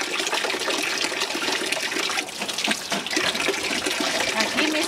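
Water runs steadily into a clay washtub at a country house, a dense, continuous splashing rush that stays close and loud throughout with no voices.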